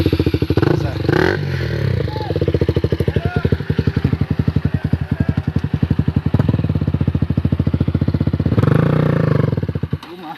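A motorcycle starts with a self-starter and rides off-road through rough ground near Guwahati, its engine chugging in a rapid, loud, even pulse with rattles and clatter, rising briefly in revs near the end.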